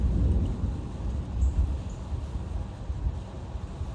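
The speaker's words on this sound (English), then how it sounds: "it's like actual thunder and rain right now" Thunder rumbles low and steady during a rainstorm over a backyard, a continuous dull roar with a few swells and no voices.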